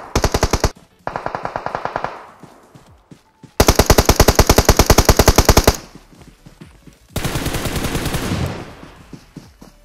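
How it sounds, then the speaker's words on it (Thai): Bursts of automatic gunfire from the mobile battle royale game PUBG Mobile, several long rapid strings of shots separated by short pauses, loud and close with no talk. "ข้างหน้ามีคนยิงกัน"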